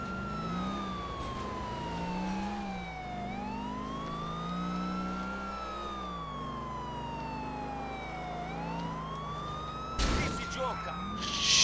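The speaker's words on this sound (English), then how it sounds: "maybe I need to turn off the siren" A police car siren in GTA 4 wails up and down in long, steady sweeps, loud and close, with a short burst of noise near the end.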